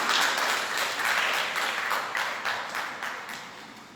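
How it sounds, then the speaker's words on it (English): A school audience at an International Women's Day event gives a round of applause, with thick clapping that swells and slowly eases off, heard alone without talk. "Let's again appreciate her with a huge round of applause."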